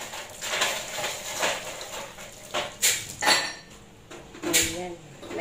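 Raw bitter gourd being washed by hand, with water splashing and a few sharp clinks of dishes and utensils knocking together at moderate volume against a busy, noisy background.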